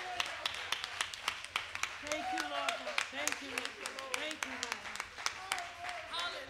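Church congregation at The Movement Centre clapping along in a loose, fairly steady beat of sharp hand claps, mixed under a preacher's loud amplified voice and singing.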